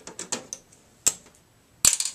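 Screws being backed out of a computer case side panel with a screwdriver: a run of short, close mechanical clicks and ratcheting taps, a sharper snap midway, then a louder scraping burst at the end, with no talking.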